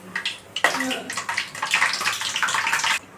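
Biryani whole spices drop into hot oil for a simple chicken fry and burst into a loud, crackling sizzle that starts abruptly, holds for a couple of seconds, then cuts off sharply.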